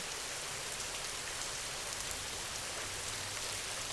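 Steady rain falls continuously, a dense, even hiss of drops with no breaks and no voices, like a downpour soaking everything nearby.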